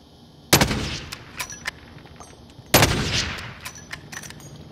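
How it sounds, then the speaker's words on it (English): Two sharp bursts of gunfire in a battle royale video game, each a loud crack followed by a short rumbling tail, with scattered fainter shots in between and no talk. "Someone else is shooting him too."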